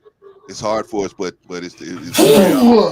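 Speech runs at first, then a sudden loud sneeze bursts out near the end, close and sharp, with the voice fading into it.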